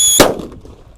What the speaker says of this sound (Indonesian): mercon buntelan di dalam lubang tanah ya